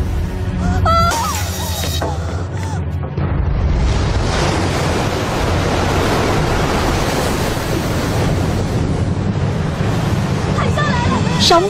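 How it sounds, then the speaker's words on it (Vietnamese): Tsunami waves crashing in a Chinese period martial-arts film, a loud, sustained roaring rush of water that fills the scene, with brief shouting voices at the start and near the end. "Sóng thần đến rồi, sóng thần đến rồi, mau chạy đi."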